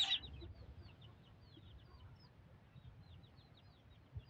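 Backyard laying hens cluck faintly over a low, steady background rumble, with soft high chirps scattered throughout.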